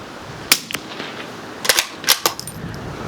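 Several sharp, crisp cracks from a CZ 457 rimfire bolt-action rifle shot outdoors, a single report followed by a tight cluster of two or three more and a final pair, with quiet gaps between them.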